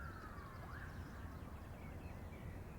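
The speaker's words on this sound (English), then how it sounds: "What's that? A siren." A distant siren wails faintly, its tone sliding and rising, far off under steady outdoor background noise.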